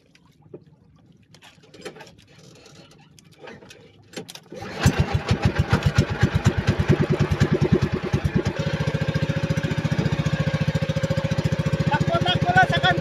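A small engine used at a roadside goto (tripe soup) stall is started around five seconds in and then runs steadily and loudly at a fast, even chug, after quiet background noise with faint voices.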